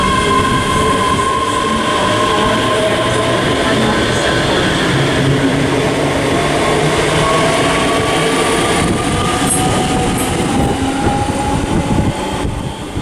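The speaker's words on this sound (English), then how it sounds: "arriving now is going to be the 1644 ScotRail service to Glenrothes with Thornton, formed of another 170" ScotRail Class 170 diesel unit arriving at Haymarket station, a continuous loud rumble of wheels and engine with faint squeals, close by, and no talk.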